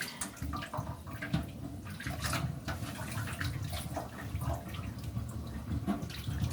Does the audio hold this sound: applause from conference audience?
no